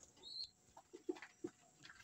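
Racing pigeons in a loft give faint, scattered soft coos and brief clucking calls, quiet and close amid a calm background.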